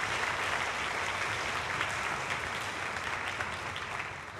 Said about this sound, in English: Let's give Chris a round of applause.